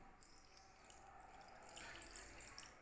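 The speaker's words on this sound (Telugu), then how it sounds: "మనం వాటర్ని పోసుకోవాలి" Water poured into a turtle figurine bowl, a soft steady trickle and splash that swells louder toward the end, heard alone without talk.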